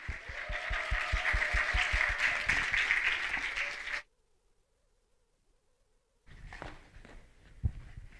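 Loud audience applause fills a church worship service for about four seconds as a pastor is welcomed, with dense clapping that cuts off abruptly, followed by silence and then faint room noise with a sharp knock.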